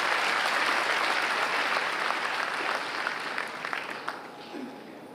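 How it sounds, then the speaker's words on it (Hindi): An audience gives loud applause to pilgrims who walked 1,400 kilometres, dense clapping that starts strong and gradually thins and fades over several seconds. "जी बहुत जोरदार तालियां इनके लिए"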